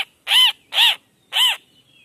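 A brightly colored wild bird caught in a trap along a riverside path, giving three loud harsh calls in quick succession, close and otherwise quiet.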